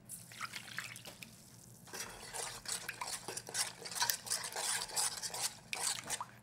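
Water is poured into Korean ready-made potato pancake mix and stirred in a bowl, with close, soft sloshing, dripping and light utensil clinks against the dish that continue steadily throughout.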